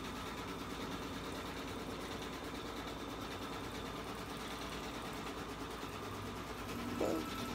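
An embroidery machine stitches an in-the-hoop coffee cup wrap, tacking down the outside edge, with a steady, even mechanical hum and rapid needle chatter running throughout at moderate level, and a brief bump near the end.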